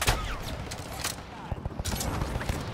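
Rapid bursts of gunfire in Call of Duty: Modern Warfare 3 online play, several sharp shots crackling in close succession over a busy, noisy game mix.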